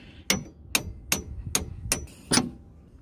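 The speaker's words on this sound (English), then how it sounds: "I just use an extension just to hammer that through, just makes life a bit easier." Six sharp metallic hammer blows ring out at a steady pace as an extension is struck to drive a VW T4 driveshaft through, close and clear with no talk.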